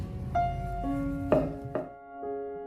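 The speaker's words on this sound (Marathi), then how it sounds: "तिच्या मी अशा वाटीच्या साहाय्याने छोट्या छोट्या पुऱ्या कट करून घेणार आहे." A steel bowl rim presses down to cut small puris from thinly rolled chapati dough, a few soft muffled thunks against the board with ringing metallic tones from the bowl, close and quiet.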